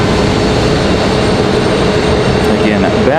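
Delta jet airliner taxiing at Raleigh-Durham airport, a loud, steady engine roar close by with a faint rising whine near the end, people talking under it.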